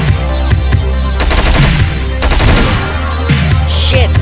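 Rapid bursts of enemy gunfire in the video game Hotline Miami 2, loud machine-gun-like rattles in several clusters over a low droning game soundtrack.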